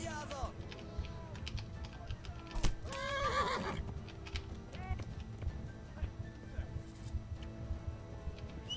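A horse in a medieval video game gives a sharp whinny partway through, over a busy bed of hoofbeats, clicks and game noise, heard near and fairly faint.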